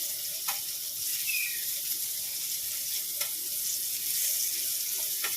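Bitter gourd slices fry in a pan with a soft, steady sizzling hiss, close and even, broken by a few faint clicks and taps, with no one speaking.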